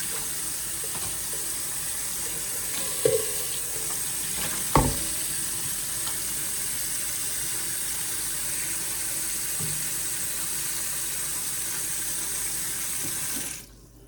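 Tap water runs steadily into a kitchen sink while a silicone sponge scrubs an air fryer container, a continuous hissing splash with a couple of sharp knocks early on, then the flow cuts off at the end.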